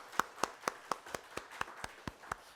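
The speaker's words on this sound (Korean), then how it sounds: "우리 한번 박수 한번 하십시다." Hands clap in a slow, even rhythm at a Friday prayer meeting in a church, about ten distinct claps spaced roughly a quarter second apart, fairly faint and with a slight room echo.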